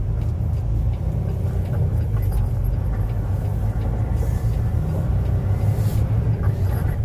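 A 13-speed semi truck pulls onto the highway with a continuous, heavy low engine rumble and road drone heard from the cab, steady and loud throughout with no speech.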